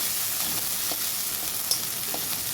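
Garlic, onion and ginger fry together in a pan as a steady, close sizzle, broken by a few soft taps and scrapes from stirring.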